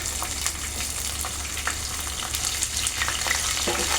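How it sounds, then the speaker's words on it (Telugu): Onions, green chillies and curry leaves fry in hot oil with a steady, dense sizzle and crackle that runs without a break, with a few light stirring scrapes on top. "కొద్దిగా 2 నిమిషాలు ఫ్రై అవ్వనిద్దాం"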